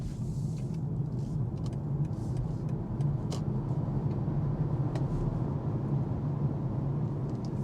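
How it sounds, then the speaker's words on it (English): A BMW iX2 xDrive30 electric SUV accelerating hard onto a highway, heard from inside as a steady low road rumble and tire roar with a faint whine, holding constant throughout without talk. "Now I will accelerate a bit harder to join to the traffic on the highway."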